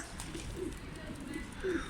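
Soft, low cooing from a pigeon perched near a window sits under a steady background hiss, with a faint voice at the edges.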